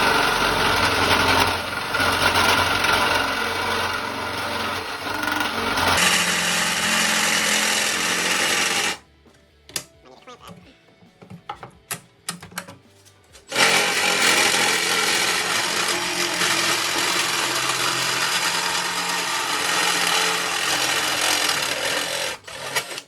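Cheap handheld sheet metal nipper tool biting through a sheet of metal on a Porsche 911 backdate project, a steady loud buzzing cut that stops for a few seconds of quiet clicks before resuming.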